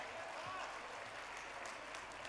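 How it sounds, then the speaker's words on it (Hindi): Applause at a Jat Mahakumbh gathering in Bhopal for two people who planted a sapling: a steady wash of clapping from a large crowd, fairly faint and even throughout, with no talking over it. "इनके लिए जोरदार तालियां बज जाए।"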